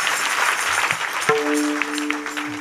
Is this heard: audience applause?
yes